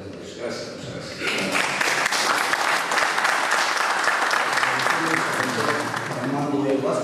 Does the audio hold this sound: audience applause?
yes